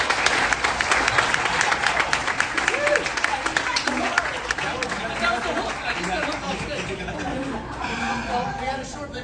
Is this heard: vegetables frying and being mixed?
no